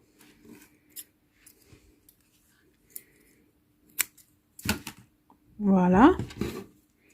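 Scissors snip through knitting wool a few times, leaving sparse sharp clicks with quiet gaps, before a short voiced sound near the end.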